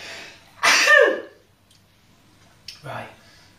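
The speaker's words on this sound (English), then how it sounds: "Gonna sneeze!" One loud, close sneeze bursts out in a garage during a classic Mk3 Ford Cortina restoration, followed a moment later by a short exclamation from the same person.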